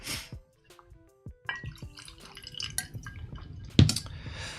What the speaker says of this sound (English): I'll pour another Jack.